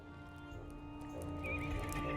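A horse in the online game Lord of the Rings Online whinnies, a rising neigh that grows louder toward the end over a steady musical drone, with faint hoof clops and no speech.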